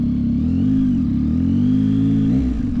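A 2024 Yamaha MT09 SP motorcycle engine running loud and close in street mode, a continuous deep throaty drone with slight rises and dips in revs, ending in a brief rougher flutter.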